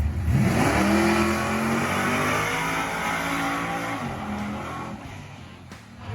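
A Chevy Nova wagon with a 414 small-block V8 making a drag strip pass, the engine revving hard and rising through gear changes, loud and close at first and then easing off, with no talk.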